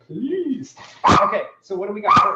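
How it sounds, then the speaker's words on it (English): A dog named Biscuits barks close by in a home kitchen, giving two or three sharp, loud barks mixed with whiny yips, while people talk over it. "That's the dog."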